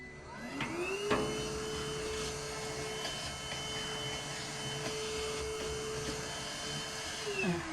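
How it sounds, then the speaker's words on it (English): Handheld vacuum cleaner running while cleaning soil and dust off glass cabinet shelves, spinning up to a steady whirring drone that holds for several seconds before winding down, quiet and close. "I just use the handheld vacuum"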